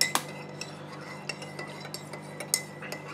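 A spoon stirs Camp Coffee liquid in a cup, tapping and clinking against the sides in a quiet, irregular rhythm, with one sharper clink near the start and another toward the end.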